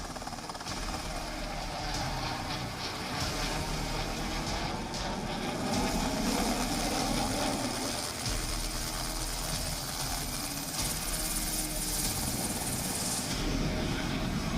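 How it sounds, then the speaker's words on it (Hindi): Sarang helicopter and Surya Kiran aircraft fly together at the 2021 Bangalore air show, a steady loud wash of rotor thrum and engine roar sustained throughout with no talk. "सारंग हेलीकॉप्टर और सूर्य किरण ने पहली बार एक साथ आसमान में दम दिखाया।"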